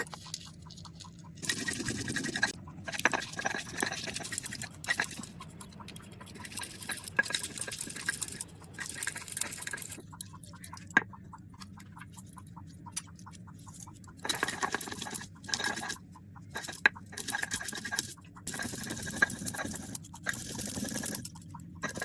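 A spice paste of cashew, poppy seed, cumin and garam masala is ground in bursts, with rough scraping and whirring that stops and starts over about twenty seconds, close up and without speech.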